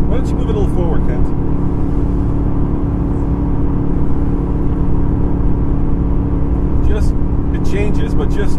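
Constant low road and engine rumble inside the cabin of a 2014 Nissan Titan pickup while towing, steady and moderately loud at about 69 decibels, with people talking over it.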